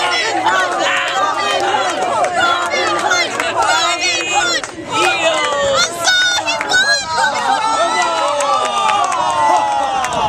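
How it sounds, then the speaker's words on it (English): An audience at a staged Robin Hood story shouts and cheers through the hero's climactic fight with the sheriff, a loud, continuous jumble of many excited voices rising and falling. "Let's cheer Robin Hood on."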